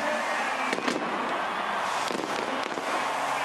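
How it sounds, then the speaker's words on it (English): Fireworks bursting a few times over a loud, roaring crowd at a rugby sevens stadium match, the pops sharp and spaced apart. "The fireworks"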